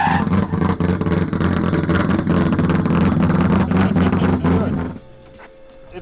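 A four-rotor rotary engine roars loudly and smoothly at high revs for about five seconds, then drops away abruptly to a quiet idle.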